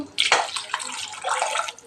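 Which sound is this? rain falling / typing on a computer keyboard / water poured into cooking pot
water poured into cooking pot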